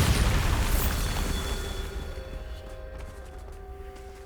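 The Bombarda blasting spell from the video game Hogwarts Legacy explodes as a loud, broad boom that fades slowly into a lingering tonal ring and some faint crackles.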